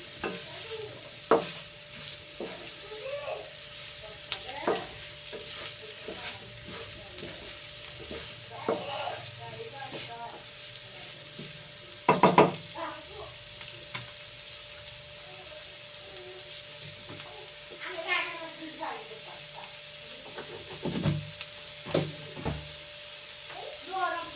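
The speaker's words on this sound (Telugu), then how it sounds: "ఆనియన్స్ మంచిగా బ్రౌన్ కలర్ వచ్చే వరకు ఫ్రై చేయాలి." Onions fry in a pan with a soft, continuous sizzle, punctuated by scattered scraping stirs and spoon clinks, including a louder clatter midway.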